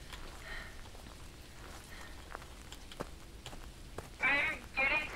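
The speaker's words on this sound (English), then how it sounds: "A bit of sound, but I think that's just because it's raining." Quiet, steady rain patters in the Phasmophobia horror game as a constant faint hiss, with a few louder bursts near the end that may be voices.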